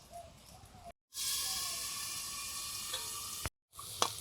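Tangra fish fry in hot oil under a cover, a steady close sizzling hiss with sharp pops and spatters, broken by two short silent gaps.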